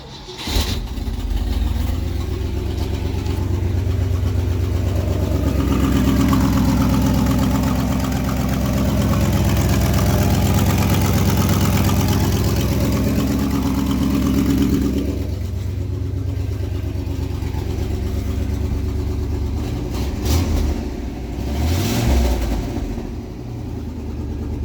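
1968 Ford F350 with a 360 engine cranking and firing up, then settling into a loud, rough, rumbling idle for a long stretch before a few sharp revs near the end.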